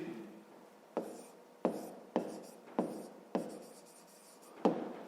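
Numbers and a fraction being written by hand in a fifth-grade math lesson, with six or so sharp pen-tap strokes spaced roughly half a second apart, each trailing into a faint scratch, close and soft with no voice.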